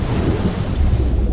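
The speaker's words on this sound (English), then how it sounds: "And right after that is the sound of the water hitting." Water hits with a loud, heavy, rumbling splash, a dense low wash of surging noise that fills the short moment.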